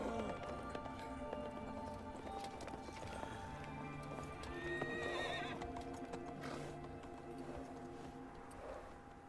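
Horses in the Shadow of the Colossus video game, with hooves clip-clopping at a gallop and neighs rising over a layered music and effects bed, moderately loud and continuous.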